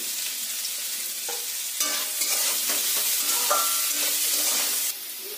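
Carrots and eggs fry with a little salt for paneer fried rice, a steady close sizzle broken by scraping stirs and clinks of the utensil against the pan, with no voices.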